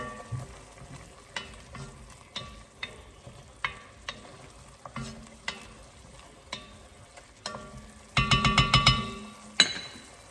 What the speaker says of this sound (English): in the meantime we have the sofrito cooking here